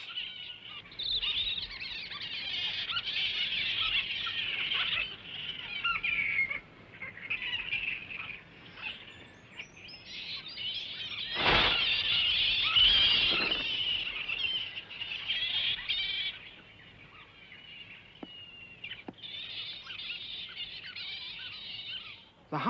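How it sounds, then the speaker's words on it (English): Giant fruit bats squeal and chatter in the trees near an Aboriginal coastal camp in northern Australia, a dense, continuous high-pitched chorus from many animals with a few louder bursts close by. "Giant fruit bats."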